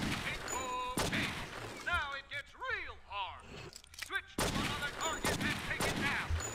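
Gunfire on a run and gun police training course in a cop game set in New York City, bursts of shots with game effects between them, while a voice talks loudly over much of it.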